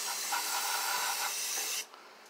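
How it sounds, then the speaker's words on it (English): Short hiss of aerosol primer sprayed onto a fresh weld inside a 1958 Plymouth body during rust repair, steady and close for under two seconds before cutting off. "I'm just going to hit the inside of here with a little bit of primer to keep the rust off that new weld"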